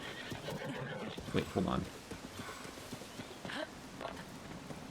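Horse neighing and whinnying with a few hoof clops in the video game The Legend of Zelda: Tears of the Kingdom, a loud whinny burst near the middle over game ambience and someone talking.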